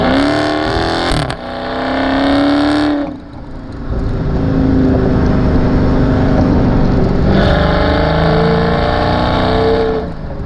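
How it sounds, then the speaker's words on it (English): A 2016 Dodge Charger SRT 392 with its V8 engine accelerates hard, a loud close roaring rev that climbs, briefly dips at a shift, then surges again and holds a strong sustained roar. "when you mat the gas, that V8 burble is ridiculous"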